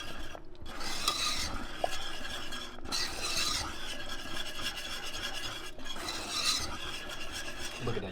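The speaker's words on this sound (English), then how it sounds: "Make sure I whisk everything up." A whisk scrapes and stirs through a creamy Cajun chicken pasta sauce in a pan, rhythmic rasping strokes in bursts with brief pauses, close and fairly loud, with no talking.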